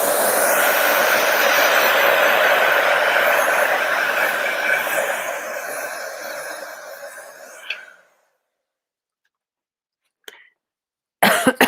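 A heat tool blows hot air over a fairy-house chalk craft project, a steady loud whoosh that fades out after about eight seconds, followed by a couple of brief knocks and clicks.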